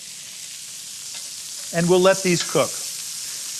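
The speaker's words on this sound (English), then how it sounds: "what I'm looking for is sort of a relaxed little sizzle" Vegetables sizzle on a hot grill cooked with dry heat and no fat, a steady crackling hiss that runs through the whole stretch while a person talks briefly over it.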